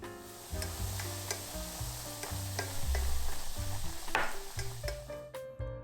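Flour stirred into hot cooking oil in a small frying pan with the heat off, a soft continuous sizzle with scraping stirring sounds, close and quiet with no talk, under steady background music.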